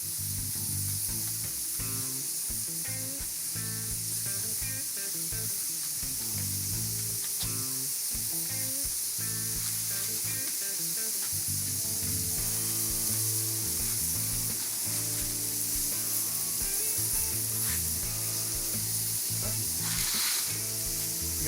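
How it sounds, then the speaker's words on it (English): Burger patties searing on a Weber Kettle charcoal grill give a steady, close, hissing sizzle with crackling and spitting throughout, with no talking. "Go ahead and get a good sear on the seasoning."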